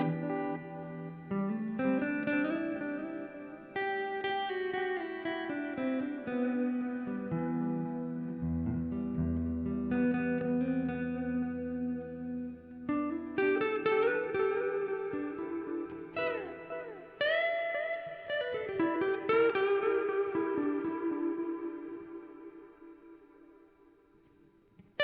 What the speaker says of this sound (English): put some reverb or put some delay on after the reverb